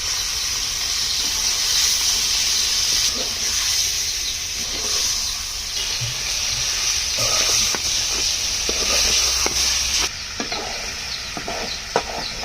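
Pond fish dropped into fried spice paste in a pan for a bhuna curry, giving a continuous loud sizzle and hiss with occasional scraping of a spoon against the pan.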